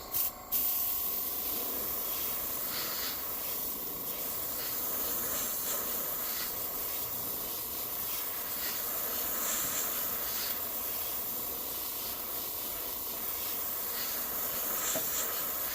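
A clogged paint spray gun hisses in a continuous airy spray with slight sputtering pulses throughout, close and steady, no talking.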